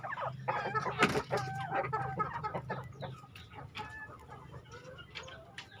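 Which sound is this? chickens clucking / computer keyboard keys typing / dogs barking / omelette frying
chickens clucking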